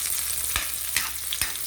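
Ginger in a hot pan, a steady close sizzle of frying with three sharp clacks of stirring spread across the moment.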